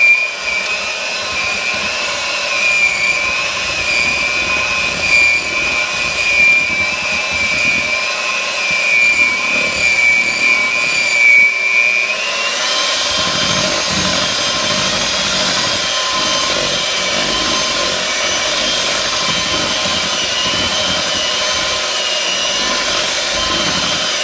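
An electric mixer blends peanut butter fudge with a continuous loud motor whine that shifts to a rougher, lower churning tone about halfway through, steady and close, with no speech.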